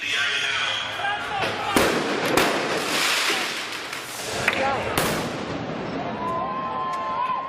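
Fireworks are launched at the federal courthouse during a Portland protest, with repeated sharp loud bangs and crackles over a dense roar of crowd noise.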